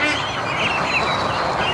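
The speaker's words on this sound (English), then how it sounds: "The little ducklings." Muscovy ducklings call from a farmyard flock sunning outdoors, a busy, continuous honking and peeping chatter at moderate distance over steady background noise.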